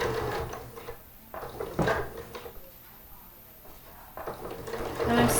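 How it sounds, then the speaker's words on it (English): A sewing machine stitches a busk into fabric, whirring in short runs broken by pauses and clunks, close by, with faint handling noise mixed in. "And I'm sewing right to the end"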